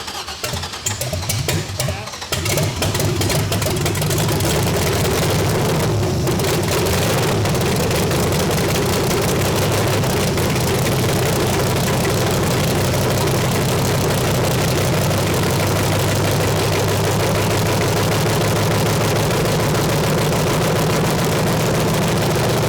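A Miata fitted with a swapped LS V8 catches and fires after a brief crank, then settles into a loud, steady, rumbling idle that holds for the rest of the stretch with no talking.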